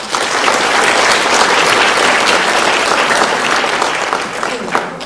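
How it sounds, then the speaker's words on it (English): An audience at a school spelling bee applauds, with dense, loud, continuous clapping that holds steady for several seconds. "We'll give a round of applause to them."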